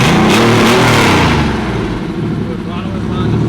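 A Porsche 964 engine running with an open intake roars loud and close, a heavy rev swelling at first and then settling into a steady rumbling idle.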